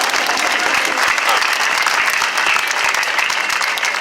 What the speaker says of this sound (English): let's clap it up for yourselves. Clap it up, clap it up, clap it up.